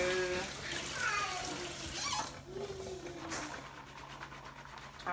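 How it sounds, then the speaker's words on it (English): Tap water runs through canned black beans being rinsed in a strainer, a steady splashing hiss that fades and thins toward the end, with a faint voice in the background. "rinsing them off in a strainer so the water will run right through"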